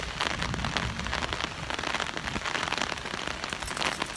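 Steady rain patters at night beside beehives, a continuous dense hiss of drops striking surfaces close by, with no voices.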